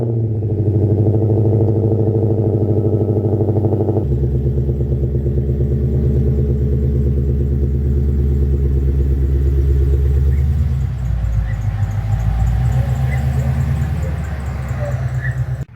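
A rare Shelby car idles with a deep, steady engine rumble close by, holding a constant drone that shifts in tone around four seconds and eases slightly near the end as the car moves off.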